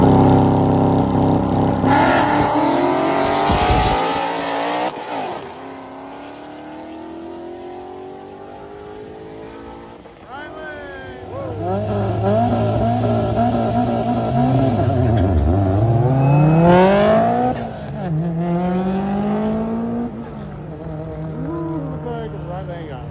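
A naturally aspirated supercar-class car in a drift-and-drag race revs loudly, its engine repeatedly climbing and dropping in pitch over twenty seconds, with a commentator talking over it.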